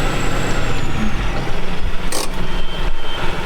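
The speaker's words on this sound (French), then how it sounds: "On décharge le tracteur là." A tractor engine runs steadily and loudly at close range while a new tractor is being unloaded on a farm, with a continuous low rumble and brief hissing bursts.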